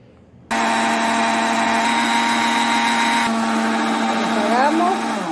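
An electric kitchen appliance blends soaked lentils, starting abruptly with a loud, steady high whir that runs on continuously, its pitch shifting slightly near the end, with no voices over it.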